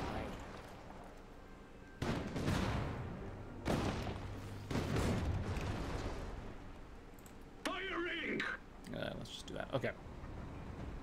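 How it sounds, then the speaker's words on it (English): In the video game Iron Harvest, several heavy booming blasts of cannon fire land a second or two apart, loud and close, followed by lighter crackling hits. "Fire the cannon!"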